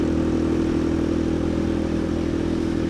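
A Honda Grom clone motorcycle with a swapped ZS-190 engine idles loudly and steadily, a rough, even mechanical chug close by with no talking.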